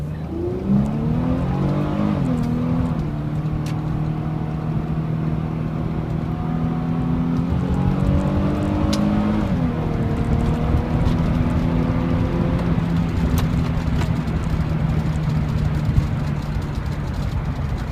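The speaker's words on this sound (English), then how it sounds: "let's do a little brake torque launch here" Infiniti G car making a brake-torque launch and hard acceleration, heard from inside the cabin: a loud, continuous engine drone rising in pitch, with a couple of gear shifts briefly dropping the revs.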